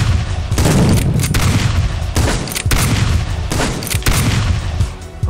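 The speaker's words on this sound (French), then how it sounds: "Il faut que je fasse tir de 3 balles." Three-round burst fire in the video game Panic Factory, loud, punchy volleys repeating roughly every second and a half over a constant rumbling game background.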